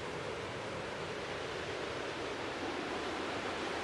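The fast-flowing Shyok river in Ladakh's mountains makes a constant, full rushing roar of water, steady and unbroken throughout, with no voices.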